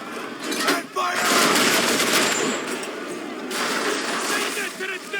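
Ship cannons fire in Assassin's Creed 3 naval combat, a rapid volley of sharp blasts and crashing reports layered over rushing wind and sea noise, with shouted voices nearby.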